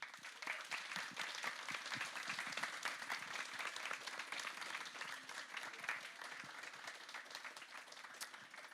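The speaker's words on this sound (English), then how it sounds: "I think the round of applause says it all." Steady audience applause after a memorial talk, dense and even clapping from a room full of listeners, fairly faint and distant, running unbroken without voices.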